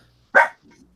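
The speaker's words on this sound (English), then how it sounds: "Is she barking at the cat?" A single sharp bark from a dog, close and fairly loud, followed by quiet.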